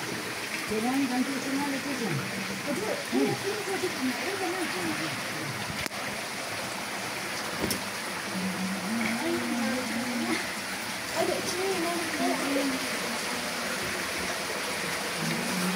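Stream water flowing at a hillside religious site in Khempalung, Dabarak, Gongkhola, Sankhuwasabha, Nepal, a steady close rushing wash running throughout beneath people talking.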